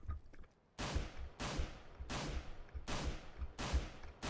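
P2000 pistol shots in CS:GO, five sharp, loud single shots fired at a steady pace about two-thirds of a second apart, each with a short decaying tail and no talking.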